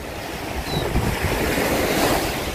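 Sea waves wash onto a Philippine beach as a continuous rushing roar mixed with heavy wind buffeting the microphone, loud and close, with no voices.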